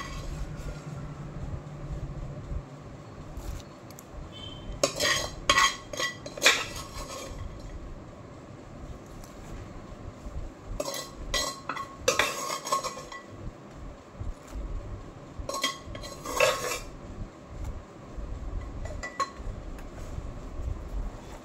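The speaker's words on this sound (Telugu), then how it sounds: "ఇప్పుడు ఈ దొండకాయలు కూడా బాగా పచ్చడి లోపలికి కలిసేలాగా ఇలా చిన్నగా దంచుకోవాలి" Fried ivy gourd for chutney is pounded with garlic in a stone mortar, making clusters of heavy, gritty thuds and grinding knocks in several bursts over a low background rumble, close and fairly loud.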